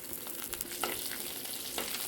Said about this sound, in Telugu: నూనె వేడెక్కింది ఇప్పుడు పచ్చిమిరపకాయలు అవి వేసేసుకున్నాము చీల్చుకొని అలాగే కరివేపాకు కూడా వేసేసుకుంటున్నాము